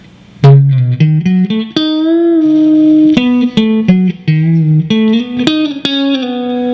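Solo electric guitar plays a blues lick of crisp picked notes and slides with short pauses between phrases, close and clear with light effects and no voices.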